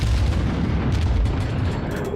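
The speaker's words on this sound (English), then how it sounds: "Looks like we got all of our guns away." Deep, booming salvo from the USS Pensacola cruiser's guns in World of Warships, a loud, sustained rumble with a few sharper blasts layered into it, with no talking.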